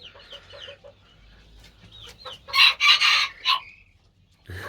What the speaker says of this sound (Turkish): Ve sürekli kur pozisyonu alıyor ve ötüyor arkadaşlar.